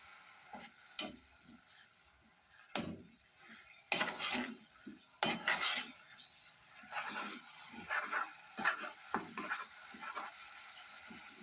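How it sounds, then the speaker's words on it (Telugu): Tamarind paste frying in oil in a pan for a chili pickle, giving soft sizzling and stirring scrapes in irregular bursts, close by and moderately loud, with gaps between the stirs. "ఈ చింతపండు బాగా వేపుకోవాలి."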